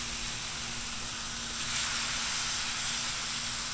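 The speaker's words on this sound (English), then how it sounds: "You can hear that sizzle." Marinated skirt steak sizzles on an oiled, high-heat Blackstone griddle, a dense steady frying hiss that swells slightly midway, close up with no talking.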